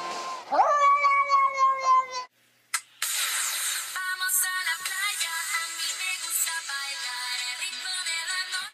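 A cat meows loudly up close in long, wavering cries, one drawn-out call, a brief pause, then a sustained yowl that continues to the end.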